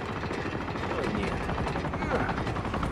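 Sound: helicopter arriving in Uncharted 2 video game

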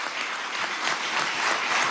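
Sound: applause in the Ayacucho Hall, Miraflores Palace

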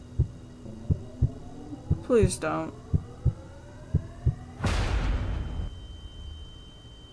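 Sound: heartbeat sound in a horror video game

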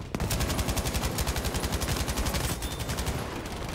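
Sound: gun firing in video game Battlefield 5

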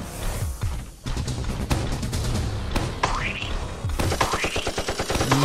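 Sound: gunfire in a video game

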